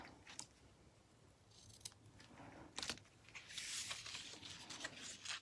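Scissors snip through silver ribbon in a few quick, close cuts, with light rustling of the ribbon between them and no talking.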